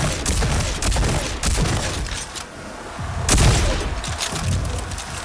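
Repeated booming blasts from a sci-fi shotgun in a remastered first-person shooter, several loud shots spaced across the stretch with mechanical clatter and ringing tails between them, no talking.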